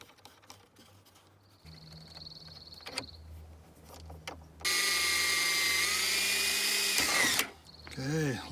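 Power drill boring a bolt hole, a loud steady whine holding for about three seconds after scattered clicks and a brief faint tool buzz, then a short burst of talk at the end.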